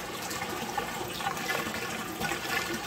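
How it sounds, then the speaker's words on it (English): Water from a HOMASY 900gph pump gushes and drains in a steady, close, hissing wash with no pauses or voices. "I definitely hear water draining"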